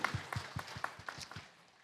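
A church congregation at a Wednesday worship service applauds in praise, heard as a faint, distant patter of separate claps fading out over a couple of seconds.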